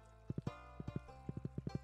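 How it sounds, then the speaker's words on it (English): Quick, evenly spaced hoofbeats of a trotting horse in Stardew Valley, in short bursts of two or three, close and clear. "I'm riding a horse."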